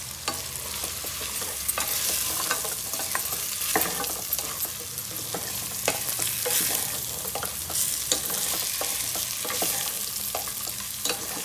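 Food sizzles steadily as it fries in salt in a pan, with a spoon scraping and stirring through it in repeated strokes, close and continuous with no talk.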